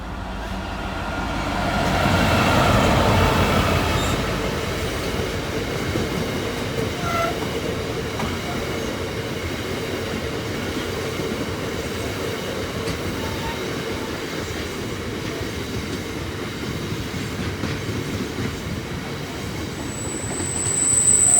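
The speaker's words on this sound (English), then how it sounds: "Is 66721 Harry Beck with the white London Underground livery" Class 66 locomotive 66721 in white London Underground livery passes Saxilby level crossing, a loud diesel rumble swelling early and then a long run of wagons with steady rolling wheel noise, squeals and clickety-clack, with a crossing alarm tone near the end.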